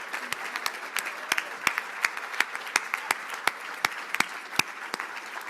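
A pharmacy graduating class and their guests applaud the award winners at a celebration. Many hands clap in a steady, lively patter with distinct sharp claps standing out, sustained for several seconds without a break.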